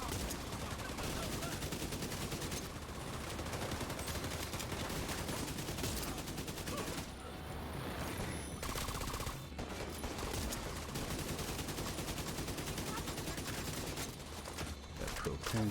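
Gunfire in The Division game aimed at propane tanks, dense rapid-fire bursts and automatic shooting that run loud and continuous almost without pause, with brief gaps between volleys.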